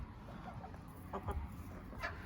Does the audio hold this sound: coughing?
no